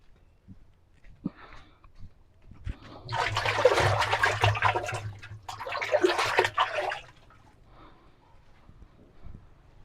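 Water runs from a tap while hands are washed, in two splashing bursts of a few seconds each separated by a short pause, with quiet moments before and after.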